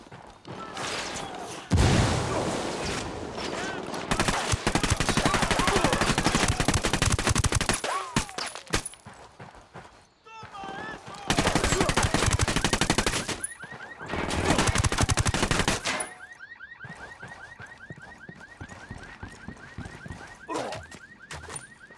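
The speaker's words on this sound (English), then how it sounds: "I'm taking fire from the checkpoint." Loud video game firefight with rapid machine-gun bursts and gunshots in two long, dense volleys, separated by brief lulls and followed by quieter scattered shots and game sounds.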